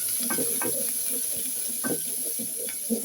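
Onion and spice paste being fried and stirred in a pan for a tilapia fish curry, soft sizzling under scattered clinks and scraping, faint and close.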